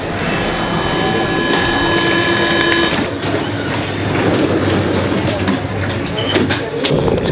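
A tram on the move gives a steady rolling rumble, with a high, sustained squealing tone in the first half that cuts off and leaves rattling, clattering track noise, while voices speak nearby.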